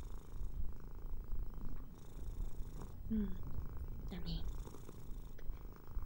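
A cat purrs in a close, steady, soft rumble that runs throughout while someone speaks quietly over it.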